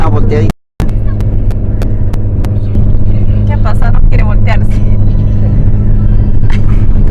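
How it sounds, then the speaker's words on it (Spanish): A moving car on a road trip to Churanpi, Peru, gives a steady low engine rumble throughout, with a brief dropout near the start, while someone talks over it. "Amigos, se mueve el carro."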